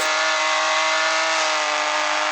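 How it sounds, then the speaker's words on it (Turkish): A car engine in the Roblox game Car Dealership Tycoon holds a steady, loud, high-pitched revving whine, continuous and alone, with no talk over it. "Mükemmel araba. Çok hızlı gidiyor."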